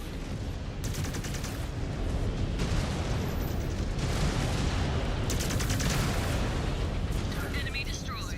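Mechwarrior 5: Clans combat: a dense, continuous barrage of missile launches and explosions, rumbling bursts layered over one another for several seconds with crackling impacts, and a voice speaking faintly beneath.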